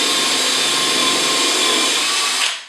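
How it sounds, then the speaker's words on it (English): A Hitachi 18-volt cordless combi drill bores into wood with a Forstner bit, a loud, continuous grinding whir that holds steady for nearly three seconds before winding down at the end. "Let's try a Forstner bit."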